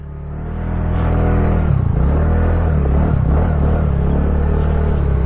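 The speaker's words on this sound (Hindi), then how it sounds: "वो इतना नहीं तो साइलेंसर की आवाज़ है" A TVS Ntorq scooter's engine and silencer exhaust rise from a low start into a loud, close, steady droning rumble.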